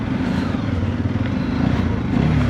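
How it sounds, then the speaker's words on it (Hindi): A TVS Apache RTX 300 Adventure motorcycle engine runs steadily while being ridden, a constant low droning hum with wind rush, loud and close throughout with no talking. "वाइब्रेशंस नहीं है बाइक में उतनी ज़्यादा, और इंजन रिफाइंड है"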